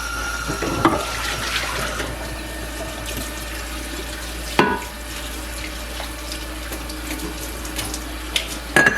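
Hot water runs steadily from a tap into a sink while washing dishes, with a few clinks and knocks of dishes.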